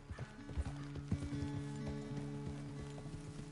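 Horse hooves clip-clop in a PS4 video game, a run of distinct hoofbeats with a short whinny early on and a steady tonal hum in the background, moderately close and with no talk over it.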